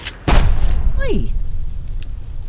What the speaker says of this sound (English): That was a shotgun, mate. That was a shotgun.